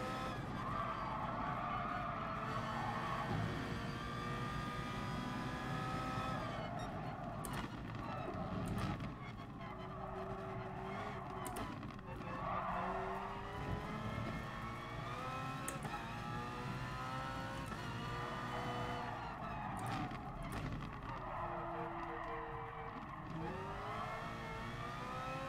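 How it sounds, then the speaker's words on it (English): A race car engine in Gran Turismo Sport drones loudly and continuously, shifting pitch as it revs up and down, with brief gear-change dips throughout. "The engine sound on this car is horrible."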